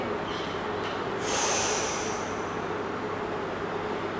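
A person takes one sharp, audible inhale through the nose during a prenatal Pilates exercise, a brief close breath against a steady background hiss.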